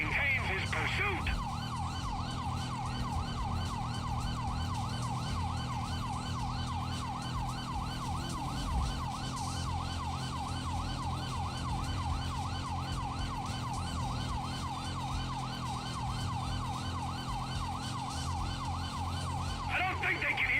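A police car siren wails, cycling rapidly and steadily for a long stretch over a constant low engine rumble during a pursuit into a tunnel, loud and sustained throughout.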